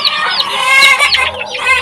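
Backyard hens cluck and chatter in quick, overlapping bursts, close and fairly loud, with no talking over them.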